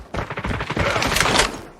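Gunfire in the mobile shooter Call of Duty Mobile: a dense, rapid burst of shots fired close and loud, running for almost two seconds with a busy game-audio mix beneath.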